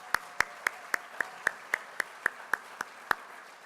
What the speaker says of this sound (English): let's give a round of applause to the wait staff for us